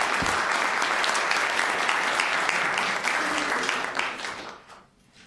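Sustained audience applause welcoming a speaker to a session on Latino communities and health equity, a dense, steady clapping from a large crowd that holds for several seconds and then tapers off and fades near the end.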